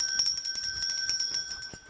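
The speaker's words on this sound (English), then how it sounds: "I've got to ring my bell." A hand bell rung over and over in a quick, steady rhythm, each stroke bright and ringing, close and fairly loud with no talking.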